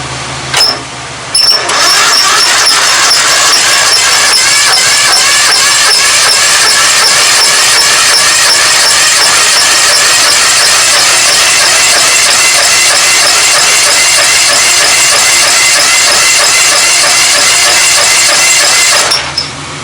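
A Kohler 18hp 691cc opposed-twin engine on a 1997 Craftsman GT 6000 garden tractor starts and runs loud and steady for nearly twenty seconds, with a rapid even firing rhythm, then cuts off.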